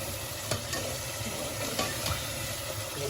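Tomato frying in hot oil in a home kitchen pan, a steady loud sizzle with a few spoon scrapes from stirring, no voices.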